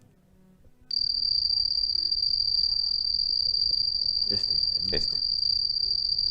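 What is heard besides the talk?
field cricket chirping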